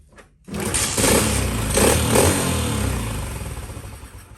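A Honda CT110 motorcycle engine, still cold and not warmed up, kicks into a loud, uneven running note after a brief quiet start, holding a rough, steady drone with slight surges for several seconds.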